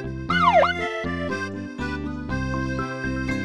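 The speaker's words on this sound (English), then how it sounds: "Watch the police car." Cartoon police car siren wailing in a sweeping, swooping tone near the start, set against bright steady music that continues throughout at a fairly loud level; no talking.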